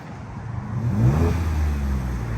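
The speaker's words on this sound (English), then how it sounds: "He's revving it up." A car engine revs up nearby, rising to a throaty peak and settling into a steady rumble, no voices heard.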